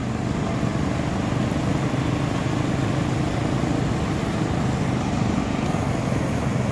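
Steady, loud mechanical droning with a low rumble from a concrete power trowel running close by on a roof slab, continuous throughout, no talking.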